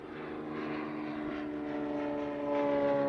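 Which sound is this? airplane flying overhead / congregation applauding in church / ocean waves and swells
airplane flying overhead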